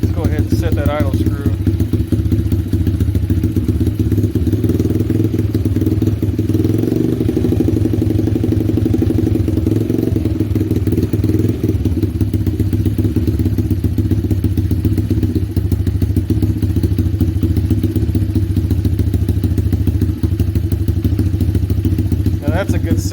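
A 125cc pit bike engine fitted with a Mikuni VM22 clone carburetor idles steadily and close by, a continuous low throbbing chug with occasional clattering thumps, running alone without talk.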